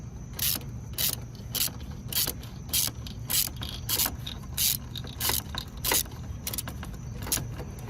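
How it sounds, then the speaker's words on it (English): Repeated sharp ratchet wrench clicks loosening an AC compressor bolt on a Honda Insight come in quick bursts, roughly a dozen short clicking runs over a low background hum, close and fairly crisp. "I don't hear a ratchet anymore"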